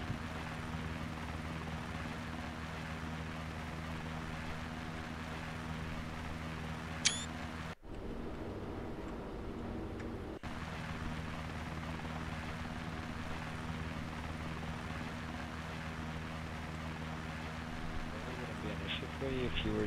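A video-game V-22 Osprey tiltrotor comes in for a jet-style landing on an aircraft carrier, its engines droning in a constant loud hum that cuts out briefly and then resumes, with a voice occasionally speaking over it.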